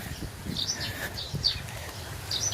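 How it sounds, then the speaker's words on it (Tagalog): Faint, scattered bird chirps outdoors near a dumpster, a few short calls over low background rumble and handling noise. "Ingay ng mga ibon, sarap pakinggan."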